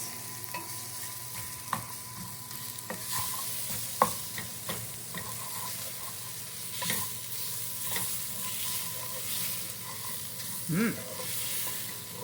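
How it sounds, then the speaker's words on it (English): Lentil soup ingredients with pepper and cumin stirred in a pot, a steady scraping and sizzling texture with a few sharp utensil clinks against the pot, close and moderately loud with no talking. "Cook, stirring frequently for a couple of minutes."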